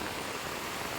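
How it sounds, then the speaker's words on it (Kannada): Heavy night rain pours down in Sagar while rainwater runs over a national highway, a loud, dense, steady hiss of rain and flowing water with no voices. "ಸಾಗರದಲ್ಲಿ ಭಾರಿ ಮಳೆಗೆ ಹೇಗೆ ನೀರು ಹರಿತಾ ಇದೆ ನೋಡಿ"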